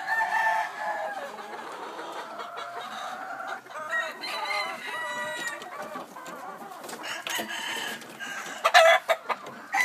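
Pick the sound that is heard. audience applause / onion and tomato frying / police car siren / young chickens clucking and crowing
young chickens clucking and crowing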